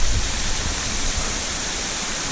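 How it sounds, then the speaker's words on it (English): Waterfall at McConnells Mill State Park roaring as a steady, loud, dense rush of falling water, continuous and close, with no voices over it. "But yeah, here's the waterfall."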